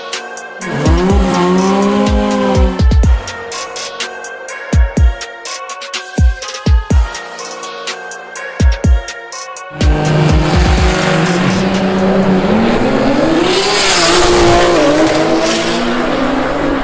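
An Audi race car roars down a drag strip at a doorslammer event, loud engine pulling through rising gear changes with sharp popping bangs from the exhaust, then a sustained high-speed run toward the finish.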